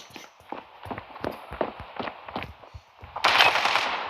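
Video game gunfire crackles in short rapid bursts with a steady rhythm, close and fairly loud, before a sudden hissing wash of noise at the end.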